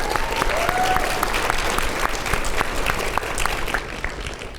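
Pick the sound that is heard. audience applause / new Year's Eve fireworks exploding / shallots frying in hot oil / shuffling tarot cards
audience applause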